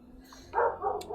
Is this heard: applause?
no